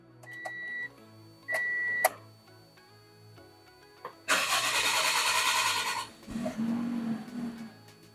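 A car engine cranks and catches during setup for fuel injector cleaning with a cleaning machine, following a few short electronic beeps; the engine burst is loud and close, then settles into a running idle.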